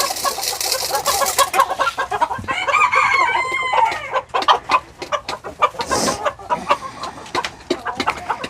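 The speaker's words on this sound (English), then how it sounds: "it's kind of became the bantam chicken coop" Bantam chickens in a backyard coop cluck and chatter steadily throughout, with a rooster's crow rising in the middle, close and lively.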